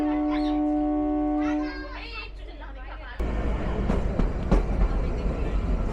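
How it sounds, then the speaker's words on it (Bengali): Kalka–Shimla toy train pulling out of Summer Hill station, a sustained horn-like tone and children's chatter giving way to a louder, close rumble of the moving narrow-gauge train. "সামার হিল স্টেশন থেকে ছেড়ে দিচ্ছে"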